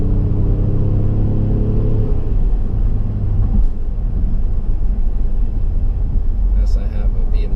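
A 2017 Ford Explorer Platinum SUV engine pulls hard under acceleration, a loud steady low rumble with rising harmonics early on, heard from inside the car as it drives.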